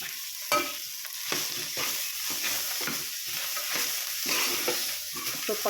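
Arive greens go into onions frying in hot oil, giving a close, steady sizzle broken by the scrape and clatter of a spoon stirring the pan.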